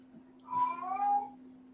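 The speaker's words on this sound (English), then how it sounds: "I'm hearing a cat complain." A cat lets out one drawn-out, complaining meow of about a second, fairly quiet and close, over a steady low electrical hum, with no talking.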